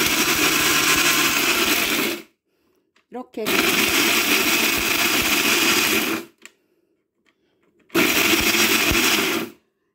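Dried shrimp whirring in a blender as they are ground into powder, in three loud bursts of motor noise separated by pauses, with brief talk between bursts.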